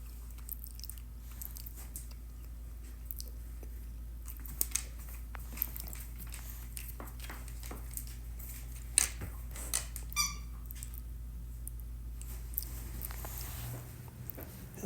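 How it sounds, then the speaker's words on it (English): A dog gnaws on his brother's ball with faint, irregular soft chewing and occasional sharp bites, close by but quiet, over a steady low hum and no talk. "Don't chew up your brother's ball."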